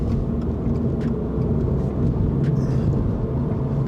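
Steady low road rumble from inside a 2022 Subaru BRZ moving through Sydney city traffic, continuous engine and tyre drone at even loudness with no talk.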